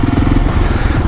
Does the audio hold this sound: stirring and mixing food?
no